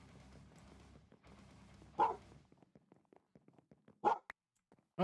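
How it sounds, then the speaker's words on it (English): Dogs in a house give a few sharp, loud barks in short isolated bursts, with quieter shuffling and low indoor noise between them. "Two in the house starts barking."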